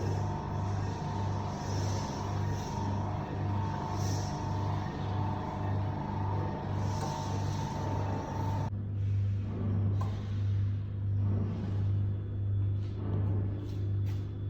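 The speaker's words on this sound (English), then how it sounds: "Yes, the wheel is activated." A ChocoMan 30 Deluxe chocolate tempering machine runs with its wheel turning, giving a steady, close mechanical hum with a faint rhythmic pulse that deepens partway through.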